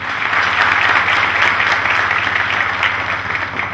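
An audience at a farming seminar on integrated crop-livestock systems in Brazil's western border region gives a steady round of applause, thanking the support and organizing team. The clapping is close and continuous, holding at an even level throughout.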